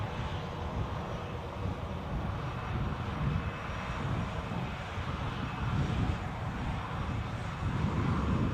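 An EasyJet airliner departing Edinburgh for Bristol makes a moderate, steady engine rumble that swells slightly toward the end, with some wind buffeting and no talking.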